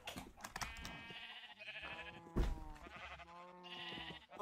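Sheep bleat in a block-building video game, several wavering calls one after another, with faint keyboard typing clicks running underneath.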